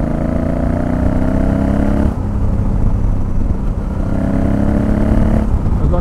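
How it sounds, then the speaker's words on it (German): A motorcycle engine runs loudly and steadily close by, its low drone shifting in pitch a couple of times as it revs. "mal gucken, ob man den Motor hört"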